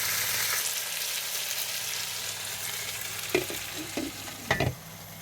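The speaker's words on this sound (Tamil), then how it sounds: "கிண்டி விட்டு நல்லா வேக விட்டுருவோம்" Large green chillies, tomatoes and African chillies fry in a pan with a steady low sizzle, and a few louder scrapes and knocks of the spoon come through near the end as the mixture is stirred.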